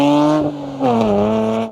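A sporty two-door manual car with a V6 engine revs hard, a loud, close, rising engine note that dips briefly between gears, then climbs again before cutting off sharply.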